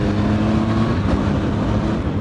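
A Triumph Tiger 800 XRx motorcycle engine drones smoothly while riding, a steady loud hum mixed with wind rush and no distinct revving peaks.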